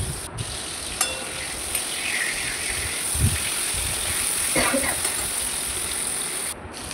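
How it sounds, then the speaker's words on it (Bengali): Fish frying in hot oil in a wok, a steady broadband sizzle that holds evenly throughout, with a few faint clinks and bumps underneath and no talking. "এবার বাকি আরও দুটো মাছ ভেজে নেব।"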